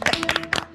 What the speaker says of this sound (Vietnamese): bây giờ tụi mình chơi cho sếp một tràng pháo tay coi.